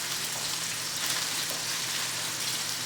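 Steady, dense crackle and sizzle of short ribs frying in a hot pan, continuous and fairly loud with a low hum underneath.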